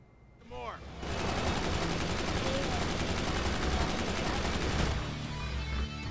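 Sustained loud gunfire fills the Brutal Legend Xbox 360 battle, a dense barrage starting after a second and running nearly unbroken under shouting voices, with a brief drop near the end.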